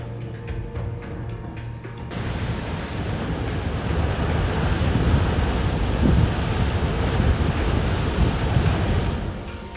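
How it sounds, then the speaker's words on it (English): Muddy floodwater rushes past as a loud, continuous roar that swells after the first couple of seconds and stays dense and turbulent throughout, with no voices. "it was a wall of muddy floodwater rushing like a force of nature"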